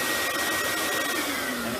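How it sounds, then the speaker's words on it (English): A Vapor Clean Desiderio Plus steam cleaner's vacuum runs close up with a loud, steady whooshing motor roar and a faint high whine, no voices over it. "So let's do the vacuum real quick, and it's push."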